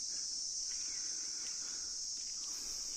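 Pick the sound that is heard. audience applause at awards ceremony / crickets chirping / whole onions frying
crickets chirping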